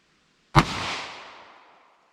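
A single sharp gunshot from a 10mm pistol firing PMC Bronze 170 grain ammunition, a loud close crack followed by a rolling echo that fades over about a second and a half.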